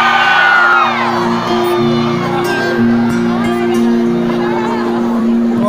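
A crowd at a Coke Studio Roadshow concert cheers and whoops loudly with shouts and high screams. Sustained tones hum underneath and the noise holds throughout.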